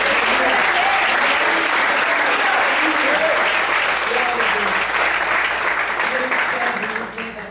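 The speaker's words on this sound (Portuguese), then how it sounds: "Aplauda e glorifica mais Deus" A church congregation at a ministry service for workers and pastors applauds loudly and steadily for over seven seconds, the dense clapping tapering slightly at the end, with a voice speaking faintly beneath it.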